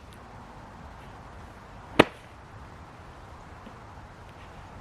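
Golf club striking a ball in a single flop shot lofted over a net, one sharp close crack standing out against quiet outdoor background noise.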